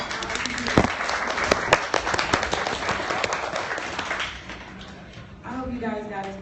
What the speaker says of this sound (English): You guys give them all a round of applause